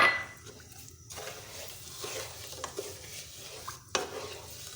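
Sugar goes into hot ghee in a pan and is stirred, giving soft scraping and faint sizzling with a few light clinks of spoon on metal, fairly quiet and with no talk.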